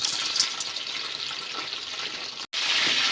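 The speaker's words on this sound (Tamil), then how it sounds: "இப்போ வந்து நம்ம கத்திரிக்காயை ஃபஸ்ட்டு எண்ணெயில் வதக்கி எடுத்துக்கலாம்" Brinjal pieces fry and sizzle in hot oil, a steady, close hiss with light stirring and a brief break near the end.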